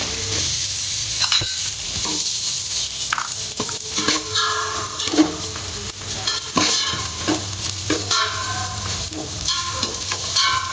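Crushed coconut stirred into a hot pan for a tapioca (kappa) dish, sizzling and frying steadily with scraping stirs and light clinks of utensil on pan throughout.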